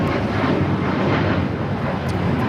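An Alaska Airlines Boeing 737 MAX 9 takes off at LAX, a loud, steady, broad jet-engine roar that fills the whole moment without voices.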